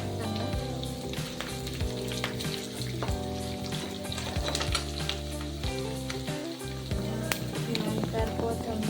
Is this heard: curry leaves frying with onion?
yes